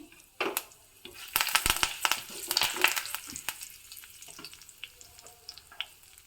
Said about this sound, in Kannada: ಕರಿಬೇವನ್ನು ಹಾಕ್ತಾ ಇದ್ದೀನಿ